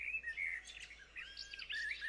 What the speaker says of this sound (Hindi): भोर के पंछी एक लय सुर में चहक रहे थे।